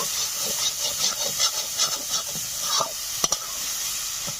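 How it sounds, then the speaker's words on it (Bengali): Banana flower mocha is stirred and fried in a pan, village-style, as a steady steamy hiss and sizzle runs under soft repeated scraping strokes, with a couple of sharper knocks near the end. "নাড়াচাড়া করে আমি আরো 5 মিনিট জাল করে নেব"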